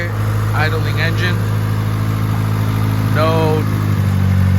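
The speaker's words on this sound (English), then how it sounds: "We have nice and quiet idling engine" A car engine idles just after a head gasket rebuild, giving a loud, steady low hum with no misses. Someone speaks briefly over it.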